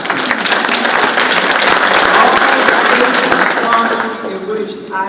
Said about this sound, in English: So I want to give them some applause.